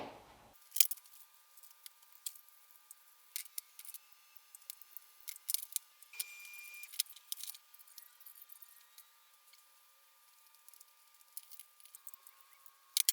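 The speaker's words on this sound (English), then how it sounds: "We're going to trim this up and then attach the male plug" Scissors or cutters snipping and trimming red and black electrical wire for a DIY harness, small crisp clicks and snips scattered quietly over a low steady hum.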